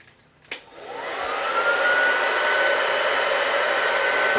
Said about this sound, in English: We'll try the blow dryer.